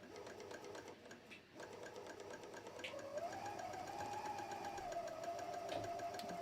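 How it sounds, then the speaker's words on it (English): Overlocker running a dense flatlock rolled hem on skirt fabric, a steady mechanical stitching whir that starts after a brief lull and runs continuously at close range with no talking. "So I'm just going to start stitching this."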